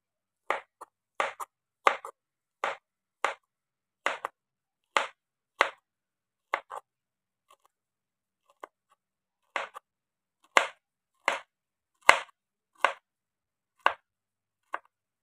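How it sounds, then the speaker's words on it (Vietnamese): A knife cuts through pineapple on a board in a home kitchen, a series of crisp, close chops in an irregular rhythm with a brief pause midway, heard alone without talk. "Thơm mình cắt, mình lấy cái ruột ra"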